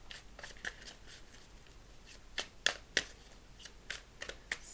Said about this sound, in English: let's go ahead, get some clarifying cards.